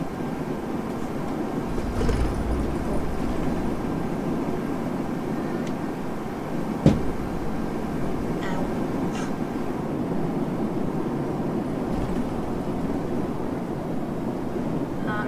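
A Mercedes-Benz Citaro articulated bus in the OMSI 2 simulator drives along with a steady low engine and road drone, moderately loud and even, broken only by an occasional faint knock or click.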